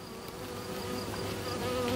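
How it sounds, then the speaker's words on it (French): Honeybees, roughly a hundred grams of them, are handled by a beekeeper without smoke, producing a close, continuous droning buzz that holds steady and swells slightly. "Donc là, il y a à peu près 50 grammes d'abeilles"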